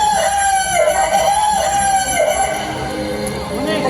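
A rooster crows over a dense, steady bed of background music, the call rising and falling in repeated phrases across the few seconds without any speech.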